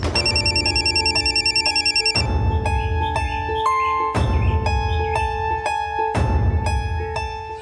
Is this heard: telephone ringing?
yes